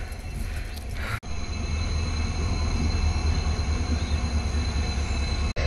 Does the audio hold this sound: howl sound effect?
no